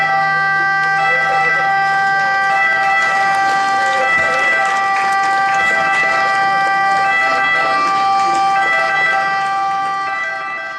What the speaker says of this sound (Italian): Ecco le tue, così tante desiderate sirene, suonare per te.